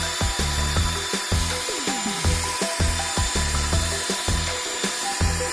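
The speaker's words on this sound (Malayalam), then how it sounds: "ഹൈ സ്പീഡിലിട്ട് നല്ലോണം ഒന്ന് ബീറ്റ് ചെയ്തെടുക്കുവാണ് ക്രീം" An electric hand mixer beats chilled cream and milk at high speed for an Egyptian Om Ali dessert, a loud, continuous motor whir with rhythmic knocking and scraping of beaters against the bowl.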